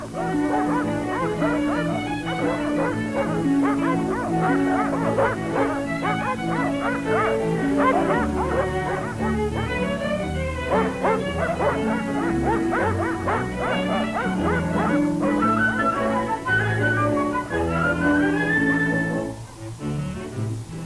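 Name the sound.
sled dogs barking and yipping in Antarctica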